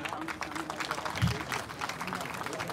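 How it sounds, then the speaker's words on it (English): An audience at a college HR conclave claps continuously, a dense patter of hands running under a voice speaking over it. "I request all the audience and our dear students to please keep clapping."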